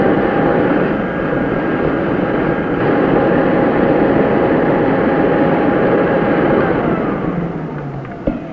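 A 1957 RCA Whirlpool vacuum cleaner runs with a loud, steady motor roar and whine that holds constant throughout before easing off near the end.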